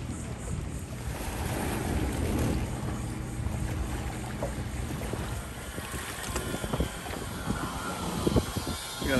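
A large boat comes in to moor at a dock under construction at a shoreline park boat ramp, a low engine rumble blended with wind buffeting the microphone and water sloshing, with a few knocks near the end.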